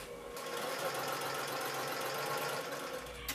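A sewing machine topstitches the folded edge of a fabric patch pocket, giving a steady, close whirring hum that runs unbroken for a few seconds before stopping.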